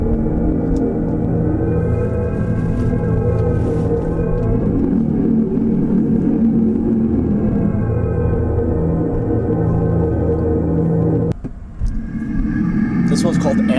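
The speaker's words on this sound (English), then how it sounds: "This one's called Asteroid Scatter, so here's accelerating. Then here's hitting the brake." A Tesla plays its custom 'Asteroid Scatter' driving sound, a loud sustained synthetic tonal drone with layered hums through acceleration, then a sudden cutoff and shifting burst as the brake is pressed; a voice talks over it.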